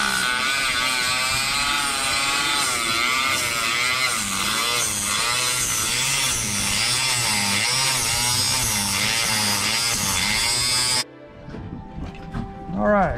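A power tool whines steadily and loudly while cutting the end off a conch shell, its pitch wavering as it works around the edge, then it cuts out abruptly, leaving faint handling noise and brief voices.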